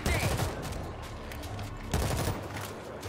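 Rapid bursts of gunfire from a weapon in the World War Z video game, set in the Moscow campaign, loud and dense across the whole moment with a second heavy volley partway through.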